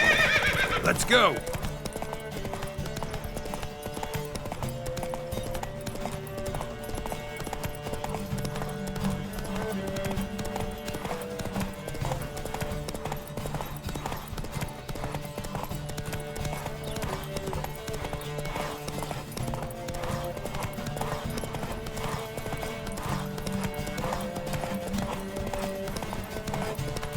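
Rapid, steady hoofbeats of galloping horses run throughout a horse race in The Witcher 3: Wild Hunt, with a whinny near the start and racing sounds layered over the pounding rhythm.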